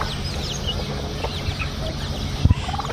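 A hen clucks softly and repeatedly at close range among chicks, with small scratching and pecking noises and one low thump near the end.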